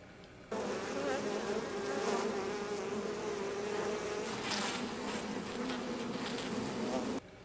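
Bee buzzing from a Blade Runner 2049 scene: a dense, steady insect drone fills the track for nearly seven seconds, starting and stopping abruptly, with no talk over it.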